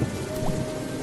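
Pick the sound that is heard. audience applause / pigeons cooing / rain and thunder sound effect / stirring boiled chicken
rain and thunder sound effect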